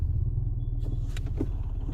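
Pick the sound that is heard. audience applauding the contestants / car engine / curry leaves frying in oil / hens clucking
car engine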